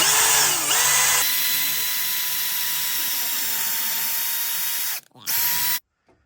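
A power drill whirs loudly and steadily for several seconds drilling through metal at a Saturn Vue engine cradle bushing, briefly stops, then runs again in a short burst before cutting off.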